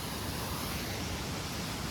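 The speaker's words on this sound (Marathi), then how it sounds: "टेंटच्या बाहेर आल्या बघा धबधबा" A waterfall rushes just outside a campsite tent at a hidden falls in Maharashtra, a constant broadband roar of falling water with no pauses.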